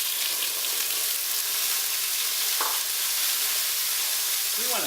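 Scallops sear loudly in hot extra virgin olive oil for paella, producing a dense, constant close-up sizzle and hiss that holds at an even level throughout.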